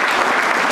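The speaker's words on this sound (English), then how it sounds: "Let's give them a round of applause." A crowd at a county agriculture awards event claps in a brief, dense burst of applause, steady and close throughout.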